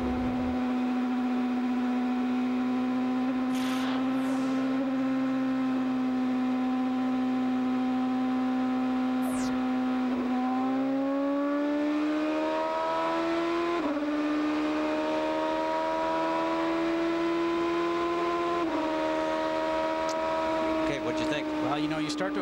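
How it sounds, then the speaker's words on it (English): Onboard an IndyCar at Iowa Speedway in 2007, the engine screams at high, steady revs through a restart, its pitch stepping up with each gear change, loud and continuous throughout. "let's go back to the last restart, see if we can hear, listen to the engine revs."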